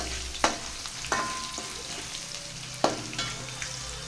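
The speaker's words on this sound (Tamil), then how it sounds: "இப்போது இந்த பூண்டு வந்து நல்லா கிறிஸ்பியாக வர வரைய வறுத்து விட்டுக்கலாம்" Garlic frying until crisp in a pan for spicy puffed rice, a close steady sizzle with several sharp stirring scrapes and knocks against the pan.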